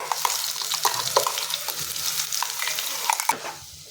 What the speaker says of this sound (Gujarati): તો આપણે તેલમાં સરસ રીતે આપણે ડુંગળીને અહીંયા સાતરી લઈશું